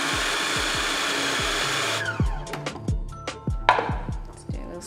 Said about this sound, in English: So let's blend that again.